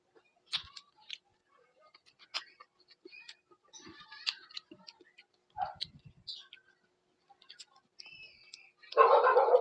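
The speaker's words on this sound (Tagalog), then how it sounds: "may aso na ingay" A dog barks in scattered, fairly faint bursts during a fruit platter mukbang, with small eating and handling noises between the barks and a louder rustling burst at the end.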